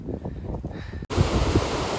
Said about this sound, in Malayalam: അപ്പുറത്തുനിന്നൊക്കെ വെള്ളം ഇങ്ങനെ ഒഴുകി ഒഴുകി വന്നുകൊണ്ടിരിക്കുന്നുണ്ട്